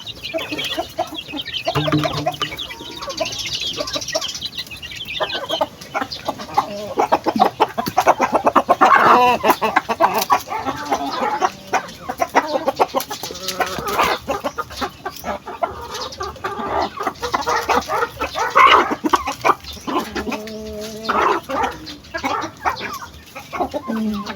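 Pet chickens cluck steadily and busily close by while being fed feeds, rice and coconut, with a continuous chorus of overlapping clucks throughout and no talking.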